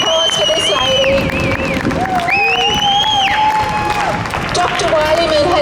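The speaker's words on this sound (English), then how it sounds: "Applause for this lady." A crowd at an outdoor rally claps and cheers for a speaker taking the stage, with whistles and shouts rising above the steady clapping and crowd noise.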